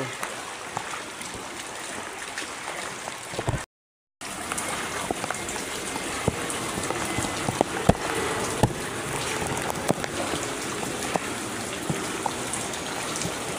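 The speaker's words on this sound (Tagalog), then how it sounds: "Ito, baha sa amin oh." Floodwater running through a street in Madrigal, Las Piñas, heard as a steady, dense rush and patter of flowing water that continues throughout, broken only by a brief gap of silence.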